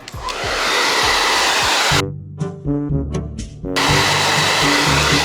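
A hair dryer blows loudly and close as hair roots are dried upward, with a steady roar that cuts out briefly midway, pulses, then resumes at full strength.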